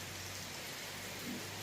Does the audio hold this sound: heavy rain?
yes